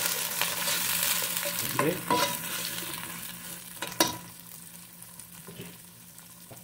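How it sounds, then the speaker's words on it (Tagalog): Onion, chili and aromatics hit a hot pan for paksiw na banak (mullet fish), giving a steady close sizzle with stirring clatter and a few sharp scrapes; a brief word is spoken at the start. "yung mga aromatics natin at itong sibuyas kasama ang sili agad-agad ng pinasok."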